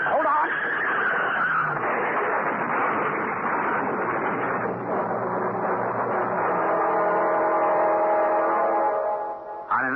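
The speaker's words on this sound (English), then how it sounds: "On an icy road in midsummer, 2 cars slide into each other" Radio drama sound effect of two cars skidding on an icy road: engines run under long, wavering tyre squeals that stretch and bend in pitch, ending in a sudden final burst.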